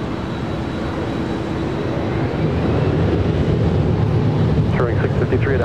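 A jet airliner taking off from runway 24 left at LAX gives a loud, broad roar that swells slightly over a few seconds, heard from outdoors with some wind noise.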